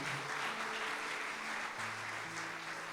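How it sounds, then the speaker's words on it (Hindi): A church congregation claps steadily and loudly throughout, a dense continuous wash of applause with no speech over it. "एक दफ़ा तालियां बजा दें खुदा के नाम के लिए।"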